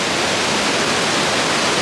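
Rushing water from a glacier waterfall in Norway makes a steady, dense roar that fills the whole clip evenly, loud and unbroken, with no voices.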